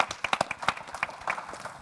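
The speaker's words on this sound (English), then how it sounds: "A big round of applause for the panelists" Scattered clapping from a conference audience applauding the panelists at a payments event, a short, thin burst of separate claps that fades quickly, not a full ovation.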